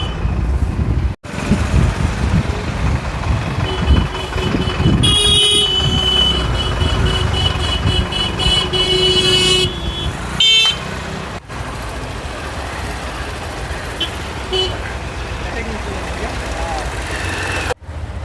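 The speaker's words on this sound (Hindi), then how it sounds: "तो ट्रैफिक ज़्यादा है" Busy street traffic with car and truck engines idling and passing, a steady near rumble running throughout beneath someone talking as he walks.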